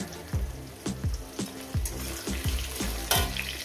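Green chillies hit frying tomato and potato in a pan, a string of soft rhythmic knocks, roughly eight over a few seconds, over a quiet sizzle, close and fairly faint.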